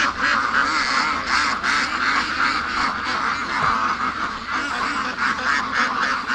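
Farm ducks quacking and honking in a pen, repeated overlapping calls in an irregular stream, close and moderately loud, with no clear speech.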